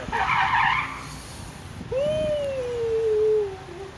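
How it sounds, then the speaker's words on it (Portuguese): A Porsche skids in a near crash, heard as playback of a phone recording: a brief hiss of tires scrubbing, then a long, loud tire squeal that bends down in pitch and fades. "o momento exato do quase acidente com a minha Porsche"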